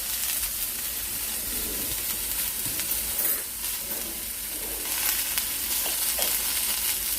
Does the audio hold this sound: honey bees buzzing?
no